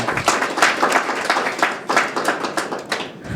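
Close audience clapping at a Tamil book launch ceremony, a short burst of individual sharp hand claps in an uneven rhythm, loud and without talk.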